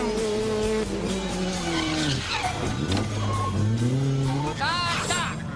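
Race cars drifting with smoke, tires squealing in long rising and falling screeches over roaring engines, loud and close, with a commentator talking over the action.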